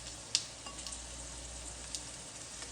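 Chicken cubes dropped into onions frying in oil, a steady soft sizzle with a few small clicks and pops, fairly faint and without talk.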